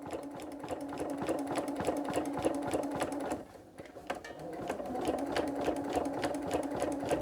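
A sewing machine quilting a Santa cookie rug runs in a fast, even needle rattle at close range, dipping briefly midway before resuming its steady stitching.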